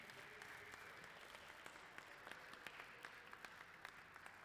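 A museum audience at a glassblowing demonstration gives a sustained round of applause after a glass goblet is finished, heard faint and distant as a steady patter of clapping.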